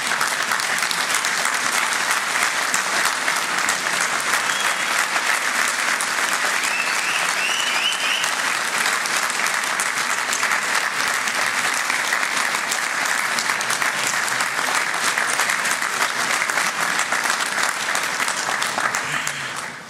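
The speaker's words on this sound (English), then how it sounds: "give those families a well-deserved round of applause" A large audience at a college graduation conferring ceremony applauds the graduates' families, sustained dense clapping lasting the whole stretch at a steady loud level before cutting off.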